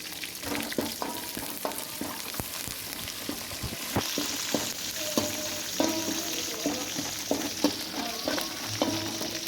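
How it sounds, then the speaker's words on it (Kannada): Curry leaves fry in oil over a low flame for bisi bele bath, giving a steady close sizzle broken by repeated scraping and stirring strokes. The hiss gets brighter partway through, and no one speaks. "ಕರಿಬೇವೆಲ್ಲ ಹಾಕ್ಕೊಂಡು ನೀಟಾಗಿ ಎಣ್ಣೆಲಿ ರೋಸ್ಟ್ ಆಗೋವರೆಗೂ ಲೋ ಫ್ಲೇಮಲ್ಲಿ ಇಟ್ಕೊಂಡು ಫ್ರೈ"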